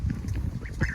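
Two baby geese on a rainy homestead call close by, giving soft rapid peeps and honking quacks over a dense low rumble of background noise.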